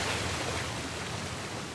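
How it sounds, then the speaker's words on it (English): A steady, broad rushing roar of falling water from a waterfall in Uncharted: Legacy of Thieves Collection, continuous and enveloping with no other sounds. "Another waterfall."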